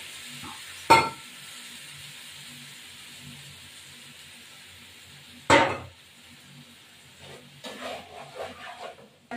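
Ginger, cumin, coriander, chilli powder and slit green chillies fry in a pan for dhokar dalna, a low, steady sizzle broken by two sharp utensil clanks and some clattering near the end.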